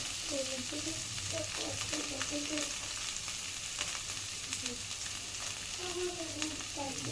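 Boiled potatoes frying in a pan with a steady sizzle throughout, with intermittent scraping and clinking as they are stirred; no talking.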